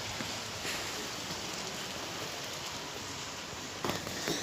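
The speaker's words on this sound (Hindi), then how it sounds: "बाहर तो बहुत बारिश हो रही है" Heavy rain falling outside in Shimla, a steady, dense hiss of drops on surfaces that carries evenly throughout, with a slightly louder burst near the end and no voices.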